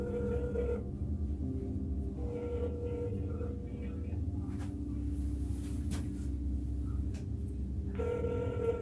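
An outgoing telephone call rings through the earpiece, a faint ring tone in two bursts separated by a long gap, over steady low rumbling background noise.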